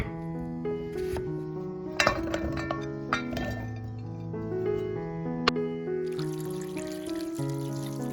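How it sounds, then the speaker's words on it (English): Water poured over potatoes in a cooking pot while making a spicy, cheesy potato snack, heard as trickling splashes and clinks beneath prominent background music. "Pour in enough water to cover them, add some salt, and cook for about 20 minutes until the potatoes become soft and tender."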